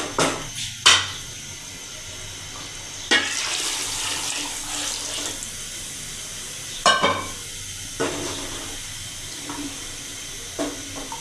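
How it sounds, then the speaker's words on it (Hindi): Water is poured into a pot of chana dal on the stove, a hissing, sizzling pour rising in short stretches amid kitchen clatter and knocks of utensils. "अब इसमें मैं पानी डालने लगी।"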